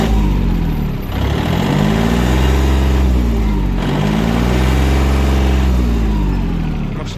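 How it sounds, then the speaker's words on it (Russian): Yanmar AF22 mini tractor diesel engine starting easily and running cold, a loud steady rumble with periodic slight swells in speed, close by with no talk. "Вот, собственно, запуск. Работает четко, запускается вообще с полпинка"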